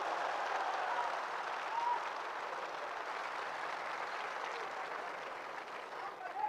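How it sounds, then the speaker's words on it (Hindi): A large audience in Karachi gives a warm welcome to Dr. Zakir Naik with sustained, dense applause, a steady wash of many hands clapping at moderate distance throughout. "डॉक्टर जाकिर नाइक साहब का भरपूर तालियों में इस्तकबाल कीजिए।"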